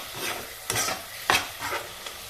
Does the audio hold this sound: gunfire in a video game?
no